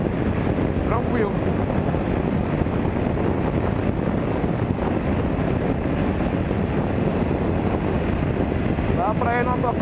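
Steady, loud wind roar buffets the microphone while riding a BMW G 650 GS motorcycle in fifth gear, a continuous broadband rush with no break for the full stretch.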